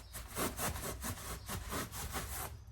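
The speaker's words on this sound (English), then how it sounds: "Just going to use a little hand saw here." A small hand saw cuts through a foam yoga block with steady back-and-forth rasping strokes, close and moderately loud, with no talking.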